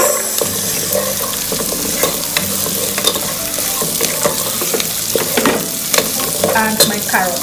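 French peas tossed into a hot pan with garlic ginger paste for chicken fried rice, a loud close sizzle broken by frequent stirring scrapes and clatters of the utensil against the pan.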